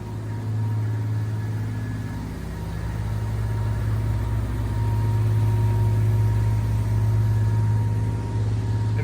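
Engines of a Mikelson 59' Nomad yacht cruising off San Diego, turbos coming on: a steady, loud low drone with a strong hum, holding even and swelling slightly midway, with no voices.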